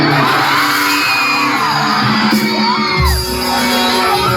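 A dense festival crowd at a music night roaring, whooping and shouting continuously, loud and close, with wavering yells rising above the steady wall of noise.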